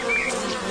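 A honeybee buzzes close by while feeding on sugary lime tree sap, a steady droning hum with a slight wavering pitch, loud and alone.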